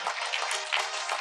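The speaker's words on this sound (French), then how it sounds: "Bravo, on les applaudit." Short burst of audience applause at a business awards event honoring eBay, moderately loud and brief, with no talk over it.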